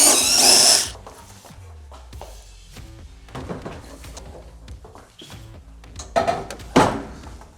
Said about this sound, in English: you're just gonna remove the 4 screws from the pallet